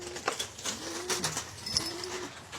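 Brooding pigeons in a loft give soft, low repeated coos, several rolling calls spaced across the stretch, with faint chirps and light background rustle.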